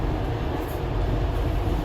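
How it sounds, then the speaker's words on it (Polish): An automated, driverless metro train in Rome gives a steady, close rumble of rolling carriages that holds at the same level throughout, with no talk. "Ale dziwny jest Metro bez motorniczego, wszystko sterowane automatycznie."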